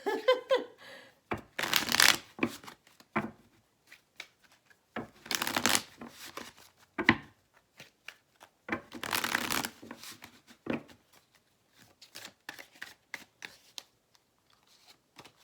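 Tarot cards being shuffled in several bursts of crisp riffling and flapping, with short pauses and lighter handling sounds between them, close by.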